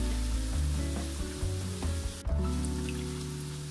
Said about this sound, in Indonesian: Kita goreng sebentar lagi supaya benar-benar matang sampai ke dalam.